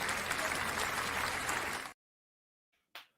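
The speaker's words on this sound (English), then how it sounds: "Clap." Applause from a small group fills the first two seconds with dense, steady clapping at moderate level, then cuts off abruptly into silence before one short burst returns.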